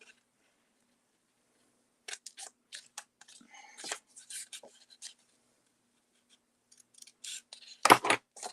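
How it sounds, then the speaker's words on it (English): Scissors snip through paper or floral material for a holiday craft, a run of close, crisp cuts in irregular bursts with quiet pauses between, ending in a louder cluster of snips. "Oh, let's cut this too."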